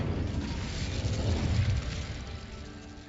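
An Incendio fire spell in a Harry Potter video game, a low whooshing burst of flame that swells for a moment before fading into a soft rumbling roar.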